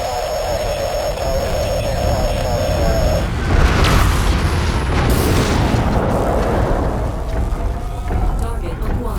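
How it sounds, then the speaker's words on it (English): Aircraft bomb-run explosions in a military video game, a loud continuous barrage of booming, rumbling blasts that swell and roll on with no break, a high whine fading out early as the detonations take over. "Commencing bomb run now."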